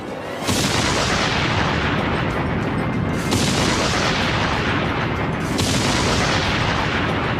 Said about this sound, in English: February 1965, 1 million pounds of TNT are detonated